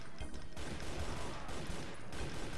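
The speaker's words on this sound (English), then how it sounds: "Take out your assault rifle again, take care of the two shotgunners around the corner" Assault rifle gunfire from the Doom map Memento Mori: a dense, continuous burst of rapid shots blending into a steady loud clatter with no pauses.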